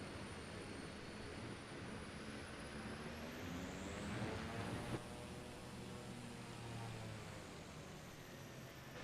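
A propeller airplane, a Pilatus, in a flight simulator game throttles up for takeoff, with a steady engine drone and rising whine held at constant loudness.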